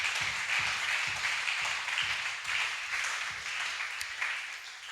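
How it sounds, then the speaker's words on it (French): A church congregation applauding in praise, steady rhythmic clapping from many hands in a hall, fairly even in loudness throughout with no talk over it. "Acclamons ensemble pour la gloire du nom du Seigneur Jésus"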